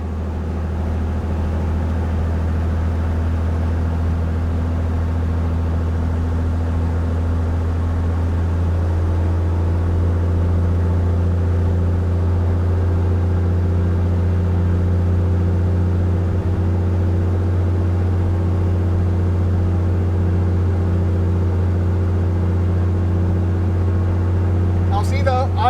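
An aircraft engine on ground run-up with brakes set, a loud steady drone that rises slightly in pitch as RPM climbs, continuous throughout with a brief sharp noise at the very end.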